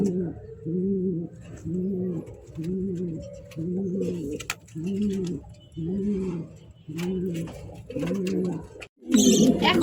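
Pigeons coo in a loft kept for breeding, with a close, loud series of about eight evenly spaced, throaty rolling coos, followed by a brief burst of rustling at the end.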